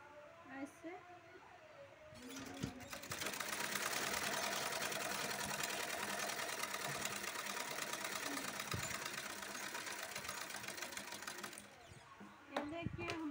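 A sewing machine stitches a blouse strip in one long, steady mechanical run that starts after a couple of seconds and stops near the end, with someone talking softly before and after.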